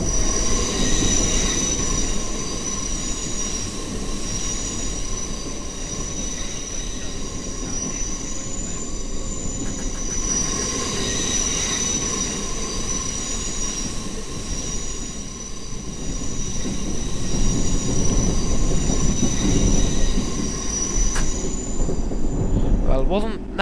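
Sustained metallic screech of train wheels squealing in a train simulator game, high shrill tones over a steady rumble of rolling railcars, loud and continuous throughout and swelling toward the end, with no talk.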